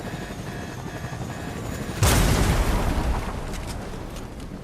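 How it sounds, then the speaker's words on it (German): A helicopter explodes in the Fortnite video game, a sudden loud broadband burst with rumble that fades into a sustained roar over steady game noise. "Die Helikopter explodiert."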